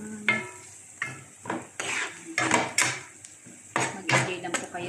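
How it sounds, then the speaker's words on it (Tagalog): Onion and garlic sauté in a pan for lumpia Shanghai filling, with repeated bursts of utensil scraping and clinking against the pan over a low sizzle, close and rhythmic, no talk. "Salisaran po natin ng kaunti ang sibuyas bawang."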